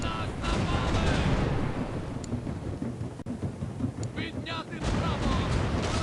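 Rolling barrage of heavy ship cannon fire in the video game The Pirate: Caribbean Hunt, booms overlapping into a continuous thundering rumble with a few sharper blasts, loud and close.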